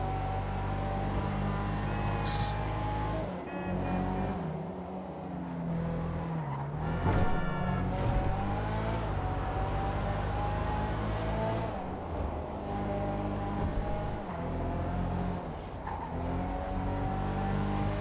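Annis Remus, a Nissan Silvia S13 tuner car in GTA 5 Online, with a raspy engine note held and revving steadily, shifting pitch with a few tire squeals, continuous and close with no talk.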